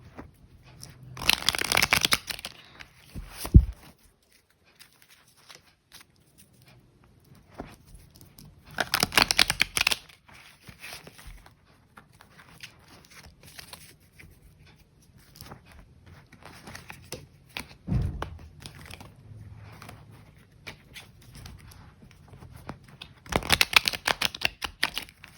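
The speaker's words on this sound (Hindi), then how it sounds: "हमने कार्ड्स को बहुत अच्छे से मिक्स कर लिया है" Tarot cards being shuffled in a few separate bursts of crisp riffling and patter, with quiet gaps between them and no talking.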